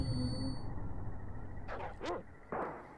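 A dog in the Super Nintendo game Secret of Evermore gives three short, sharp barks in quick succession, loud and close over a steady hum of game music and ambience.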